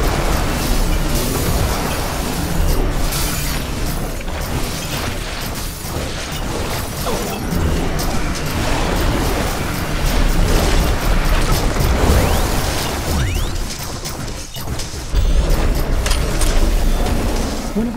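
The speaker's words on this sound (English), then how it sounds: "One of our buildings has been destroyed." Buildings blowing apart during combat in The Riftbreaker, a dense continuous wall of booms, crashes and bursts layered with game effects, loud and unbroken for the whole stretch.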